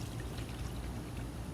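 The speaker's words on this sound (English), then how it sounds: "You just pour water over it." Water poured over lean ground beef cooked dry for pressure canning, a steady close pouring and trickling wash that runs evenly throughout with no talk.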